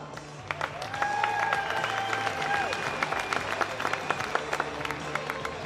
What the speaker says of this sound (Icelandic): Og ég held við ættum að gefa þeim gott klapp.